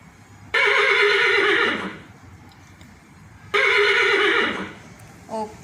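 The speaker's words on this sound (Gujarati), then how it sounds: "તો આપણે ઘોડાનો અવાજ સાંભળીશું." A horse neighs loudly and nearby in two long whinnies separated by a pause, each one shaking before it fades, with a short extra snort at the end.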